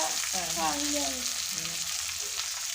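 Sambar ingredients sautéing in a pan give a steady, fairly loud sizzle with some stirring underneath, and faint tonal background sounds drift through the hiss.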